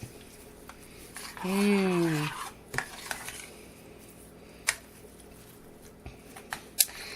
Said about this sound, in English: I'm going to mix this all up.